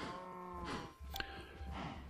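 Minecraft cows moo in the video game, two or three drawn-out lowing calls close by over soft game ambience, with no speech.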